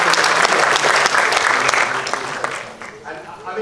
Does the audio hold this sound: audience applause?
yes